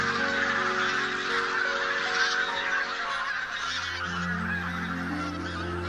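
Birds call loudly at dawn in the marshland of Warta Mouth National Park in western Poland during a mating dance, giving a thick chorus of overlapping honking, trumpeting calls that carry on steadily throughout.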